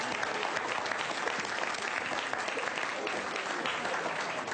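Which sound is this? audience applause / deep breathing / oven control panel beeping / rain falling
audience applause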